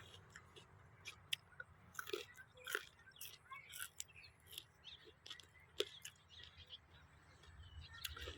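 Someone bites into crunchy fresh yard-long beans just picked from a home garden, with soft scattered crisp snaps and chewing close by, faint birdsong in the background.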